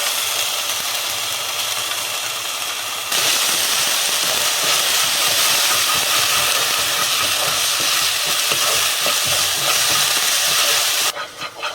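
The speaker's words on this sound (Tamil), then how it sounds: "இஞ்சி பூண்டு பேஸ்ட் வதக்கியாச்சு" Ginger garlic paste sautés in a pan with a loud, dense, steady hiss that swells suddenly after a few seconds and holds evenly, close to the microphone with no talk, before dropping off at the end.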